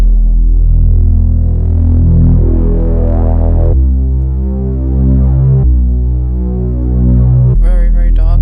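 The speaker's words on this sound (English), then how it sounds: "And on its own, the bass sounds like this." Bass line played alone in a music production, very dark and deep, holding long sustained low notes that shift pitch every couple of seconds, loud and steady with a brief higher tail at the end.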